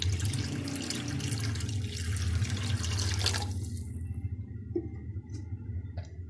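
About a litre of water is poured into a kadhi mixture in a cooking pot, a steady splashing stream for around four seconds before it stops, leaving a few drips and light clinks.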